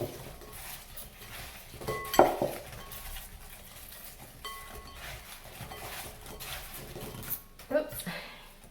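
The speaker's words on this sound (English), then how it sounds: "Let's give that a mix." Apples tossed with lemon juice in a bowl, with a spoon scraping and clinking against the sides in a few irregular bursts over quiet kitchen background.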